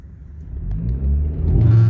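BMW F30 3 Series engine revving with launch control engaged and the accelerator floored, a low rumbling idle rising into a louder, building rev over about two seconds with no talk.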